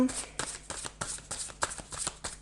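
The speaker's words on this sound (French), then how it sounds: "je vais tirer une troisième carte" Playing cards riffled and shuffled in a rapid series of crisp papery bursts, close and fairly quiet, each flurry followed by a short pause, with a faint voice in the background.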